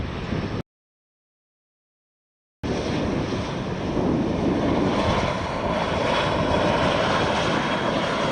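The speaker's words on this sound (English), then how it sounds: "Brussels Airlines A320." Brussels Airlines Airbus A320 jet at Faro Airport, a steady broadband engine roar with wind noise that cuts out briefly near the start, then continues loud and even without speech.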